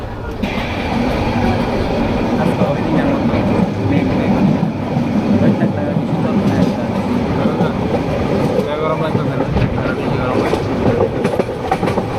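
Karnaphuli local train running on rails between Dhaka and Narsingdi, heard from inside a carriage as a loud continuous rumble with rhythmic clickety-clack, with people talking over it.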